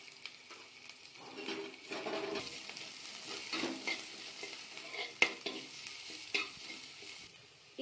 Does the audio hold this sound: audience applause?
no